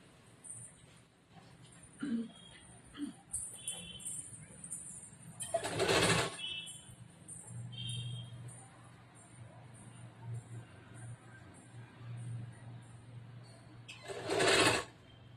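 A sewing machine stitches a princess-cut, boat-neck blouse in short bursts of rapid whirring, stopping and starting, with someone talking quietly between the runs.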